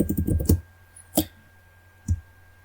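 Typing on a computer keyboard: a quick flurry of close, crisp key clicks, then two isolated keystrokes after pauses, in an otherwise quiet room.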